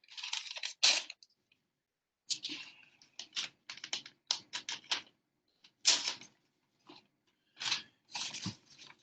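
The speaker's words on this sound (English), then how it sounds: "So you can fold it in half and simply cut it." Scissors cut through a folded sheet of paper, a rapid series of sharp snipping and crunching bursts in short clusters with brief pauses between, close and clear, with no talking.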